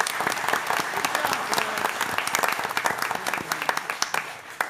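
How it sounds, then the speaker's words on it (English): A dense round of applause fills a city council meeting chamber, a crowd clapping steadily close by and then thinning into scattered claps toward the end. "So let's give IT a round of applause for their hard work."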